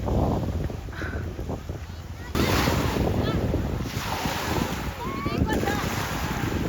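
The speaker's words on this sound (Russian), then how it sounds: "Просто смотрите на эти волны." Strong wind buffets the microphone over a constant roar of crashing sea waves on the Italian coast, with faint voices now and then beneath the noise.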